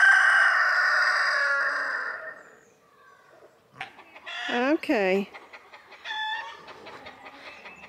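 Chickens on a farm crow and cluck as the animals grow noisy, a loud rooster crow standing out among nearby bird calls, with a brief spoken word.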